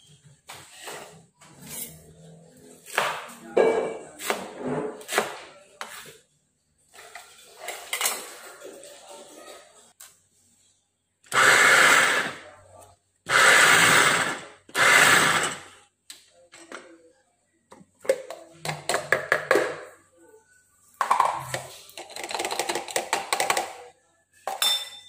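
An onion is chopped with a knife on a board in a home kitchen, heard as bursts of rapid, loud knife taps with pauses and quieter scraping and handling noises between them.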